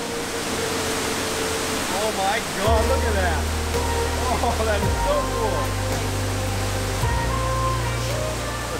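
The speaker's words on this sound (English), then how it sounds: "It's like a little cave with this waterfall flowing through." Water rushes steadily through a small cave-like canyon at Slap Kozjak in Slovenia's Julian Alps, a constant near roar with people talking over it.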